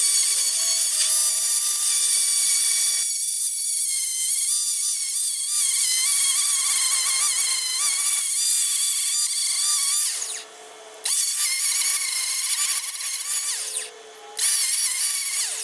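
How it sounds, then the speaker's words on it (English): A power-tool wire wheel scouring rust off the chassis leg of a Mitsubishi Evo 8, a loud, steady metallic whine and rasp with shifting pitch, dropping out twice for a moment before grinding on. "So I'm just going to wire wheel all of this crap off and around through here."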